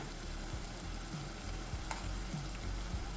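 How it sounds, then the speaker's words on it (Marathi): Onion and dry coconut paste sauté in a pan for a grey non-veg gravy, giving a steady close sizzle with soft stirring scrapes and low knocks throughout, no talking. "हे देखील आपण आता ह्या कांद्यासोबत परतून घेऊया"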